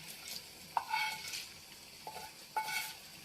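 Fried nuts stirred into hot ash gourd halwa in a pan, soft close scraping and clinks of a spoon against the metal over a light sizzle, in a few separate strokes.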